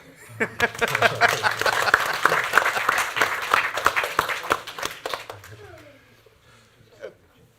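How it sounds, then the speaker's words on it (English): Audience claps for a participant at a tech demonstration event, a dense burst of applause lasting about five seconds before thinning out into scattered claps, with a voice heard faintly near the end. "Give Emily a clap."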